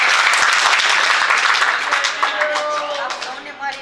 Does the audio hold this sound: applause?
yes